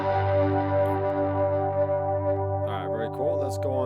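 Electric guitar run through a side comp compressor pedal in a digital Headrush rig, a sustained, evenly held chord ringing steadily with smooth compressed decay, then a few quieter picked notes near the end.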